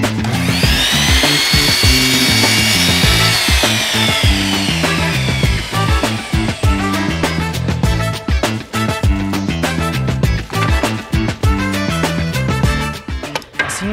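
A power saw's spinning disc slices a 45-degree horizontal cut through wood, a long high whine giving way to repeated loud bursts of cutting and rattling, close and steady with no talking.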